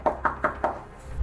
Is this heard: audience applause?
no